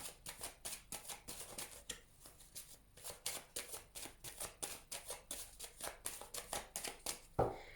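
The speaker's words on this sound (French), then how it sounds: "je vais faire une coupe avec le tarot que j'utilise pour les consultations privées" A tarot deck used for private readings is shuffled and cut by hand, giving a steady run of crisp riffling card flicks in quick rhythmic bursts, close and clear, with no talking.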